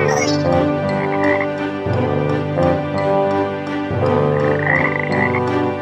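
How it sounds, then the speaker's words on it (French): Loud, close frogs croak in repeated rhythmic bursts, several calls overlapping in a dense chorus with no other sounds. "Ce sont des grenouilles."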